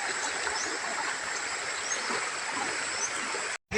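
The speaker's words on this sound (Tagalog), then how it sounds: "Pero kusog kaayo ang tubig." Strong, fast-flowing water in a creek near Bayabas makes a steady broadband rush close by, continuous apart from a brief cut near the end.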